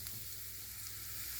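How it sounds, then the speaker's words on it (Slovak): Chopped onions frying in a pan for meatballs with bacon and mushrooms give a steady, dense sizzle that stays close and even throughout, with no voices. "Pokým sa nám cibulka smaží,"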